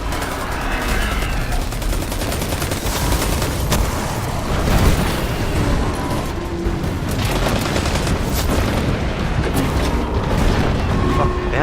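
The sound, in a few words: cannons firing in video game Destiny 2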